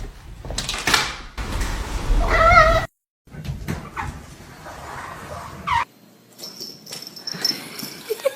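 A kitten meows and cries several times, close and loud, with one drawn-out wail among short mews, followed by some thumps and quieter movement.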